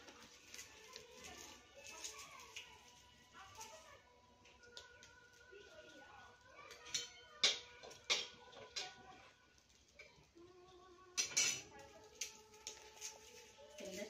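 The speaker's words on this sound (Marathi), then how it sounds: "लसूण फोडून टाकी त्याला वाटायला आणि थोडासा चुरून घेते" Garlic cloves are cracked and crushed by hand for a spice paste while cooking greens over a wood-fired stove, giving faint irregular taps, snaps and crunches, several sharper knocks clustered near the end, with quiet background noise.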